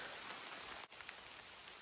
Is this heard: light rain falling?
yes